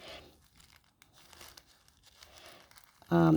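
Thin deli wrap paper handled and folded into pockets, giving soft scattered crinkles and rustles throughout, then a sudden loud burst of crinkling at the end.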